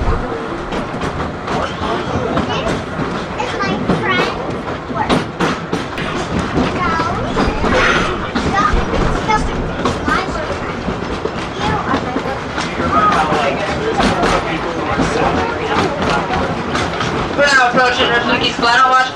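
The train ride to Rafiki's Planet Watch at Animal Kingdom rolls along with steady clattering wheels and rattling carriages, under an amplified announcement and passenger chatter.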